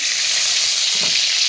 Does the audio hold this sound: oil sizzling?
yes